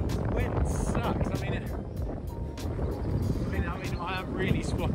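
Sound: wind blowing

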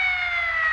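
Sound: police siren in the video game GTA V

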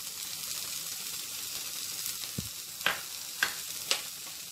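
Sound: frying sweet corn, capsicum and carrot in a pan

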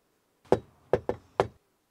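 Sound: knock at the door

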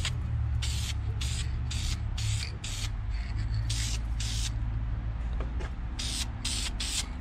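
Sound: spraying VHT wrinkle black paint on a Civic D16 valve cover

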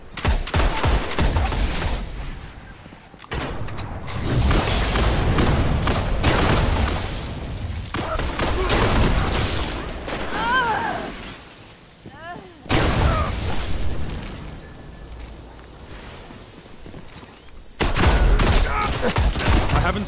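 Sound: gunfire firefight in video game Destiny

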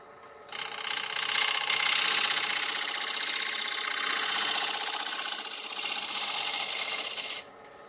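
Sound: wood lathe taking a light finishing cut on fruit wood bowl

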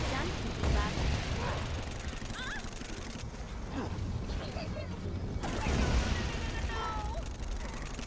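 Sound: dual-wielded SMG gunfire in Saints Row: Gat out of Hell video game

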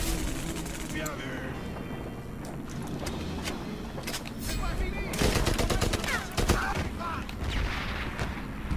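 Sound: machine gun fire in video game Medal of Honor Airborne

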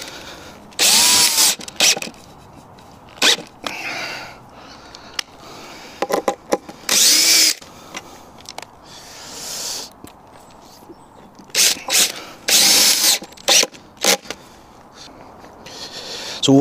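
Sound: power drill driving bigger screws into sawhorse legs

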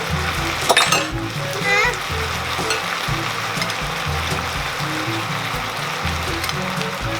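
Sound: stir-frying vegetarian food with seasoning sauce added

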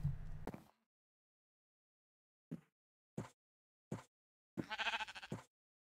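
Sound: sheep bleating in the video game Minecraft

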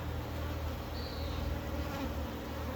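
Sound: honey bees buzzing

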